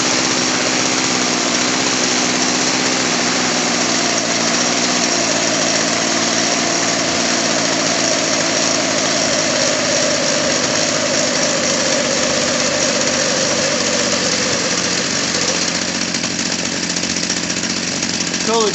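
A Craftsman chainsaw engine idles after a carburetor adjustment, giving a steady, loud two-stroke drone with no speech.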